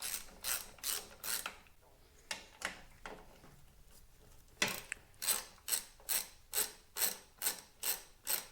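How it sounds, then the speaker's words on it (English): A 1/2-inch socket ratchet clicks in quick bursts while loosening bolts on a 2023 Harley Davidson Road Glide, with close, crisp, evenly paced strokes, a short pause, then a longer run of rhythmic clicking. "using a 1/2-inch socket, I'm able to remove these two bolts"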